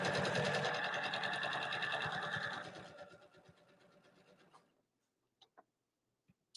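A sewing machine runs fast stitching a seam in cotton fabric, loud and steady at first, then slowing and fading out, followed by a few faint clicks.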